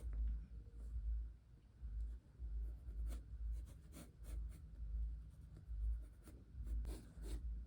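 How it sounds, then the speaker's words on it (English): Pencil side shading on paper while drawing a face, soft rhythmic scratchy strokes back and forth at a steady pace, close and quiet, with no talking. "the reason why I'm using the side of my pencil is because it allows me to create really smooth lines, smooth transition"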